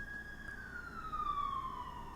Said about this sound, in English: I've been hearing sirens